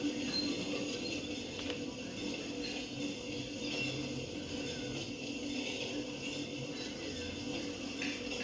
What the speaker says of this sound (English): a Conrail local, being led by two GP38-2s, is seen reversing into the oil storage facility to drop off some oil tankers.